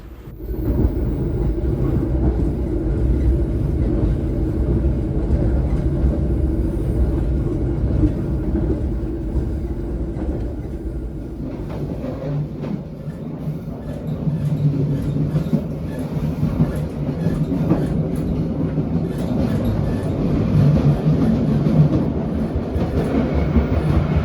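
Ciremai passenger train running through the Sasak Saat tunnel between Maswati station and the next stop, heard from inside the carriage as a loud, steady rumble with rhythmic rail clatter and a boomy enclosed echo throughout, no talking.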